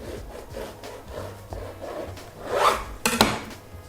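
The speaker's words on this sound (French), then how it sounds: "On va le couper en deux, on va l'ouvrir." A knife saws through a bakery bread roll, halving it: a series of soft, rhythmic rasping strokes, then a louder crusty crunch and a couple of sharp clicks near the end, close and fairly quiet with no talk.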